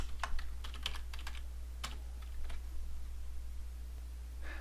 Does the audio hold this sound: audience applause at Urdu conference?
no